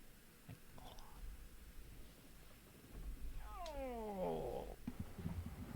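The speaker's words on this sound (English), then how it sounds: "Have you ever seen how big my cat is?" A large, heavy pet cat meows in a drawn-out, rising and falling call near the microphone, heard over a low indoor background hum.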